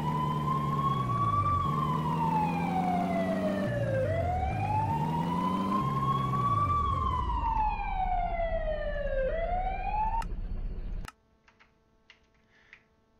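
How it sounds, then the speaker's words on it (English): A vehicle siren in the Minecraft Transport Simulator video game wails loud and steady, sweeping slowly up and down in long cycles for about eleven seconds before cutting off abruptly, leaving near silence with a few faint clicks. "Where's my siren?"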